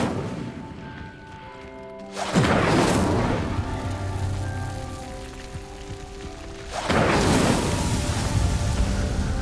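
Incendio fire spell cast in Hogwarts Legacy, PC game: a sudden loud whooshing burst of roaring flame at about two seconds, then a second surge near seven seconds, over steady game ambience.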